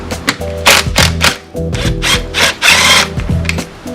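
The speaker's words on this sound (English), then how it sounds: "simply unbolt the seat belt buckle and swap it over" A car seat belt buckle is unbolted by hand inside a Honda Civic, loud close clicks, ratcheting taps and scraping knocks in uneven bursts with brief pauses between them.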